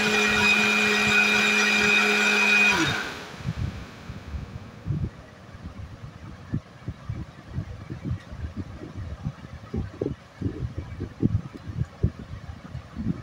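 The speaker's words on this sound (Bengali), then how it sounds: "এবার মিক্সিতে পিষিয়ে নিচ্ছি" A mixer grinder whirs loudly for about three seconds while blending milk, sugar and chopped jackfruit, then stops, leaving quiet rustling and light handling clicks.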